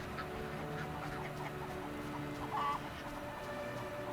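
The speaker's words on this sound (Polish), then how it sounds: "Fajnie tak kury gdaczą." Chickens in a village in the game The Witcher cluck and squawk quietly in the background, with a steady low ambient hum and occasional bird calls scattered throughout.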